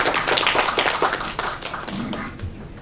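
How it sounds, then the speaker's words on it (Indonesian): Audience applause at an Indonesian education gathering, a burst of many hands clapping near and fairly loud, thinning out toward the end with no speech over it. "Kita beri tepuk tangan yang tadi"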